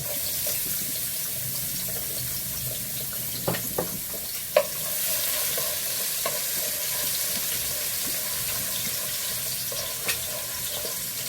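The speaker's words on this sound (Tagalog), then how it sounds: "Dito naman sa isang frying pan, magluluto ako ng ginisang ampalaya." Bitter melon being sautéed in a frying pan, giving a steady wet sizzle throughout with a few sharp clinks and scrapes of a utensil against the pan, fairly close and with no talking.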